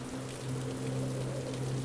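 Steady rain falls in a tropical storm, a dense, even patter that holds without letup for the whole stretch, with a low hum running underneath.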